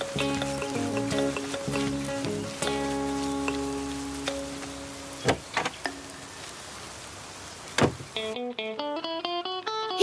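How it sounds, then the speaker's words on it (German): Rain falling in a children's cartoon picnic scene, with scattered pattering drops under a light melodic music score. "Oh nein, es regnet."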